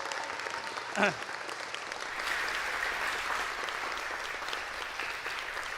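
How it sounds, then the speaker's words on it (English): Audience applause at an Eagle Scout Court of Honor, steady broadband clapping that fills the room and holds evenly through the clip after a brief louder burst near the start. "let's give them a round of applause, one more round of applause"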